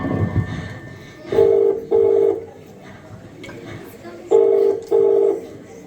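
Four telephone keypad tones beep in two evenly spaced pairs, close and clear, over a low background murmur.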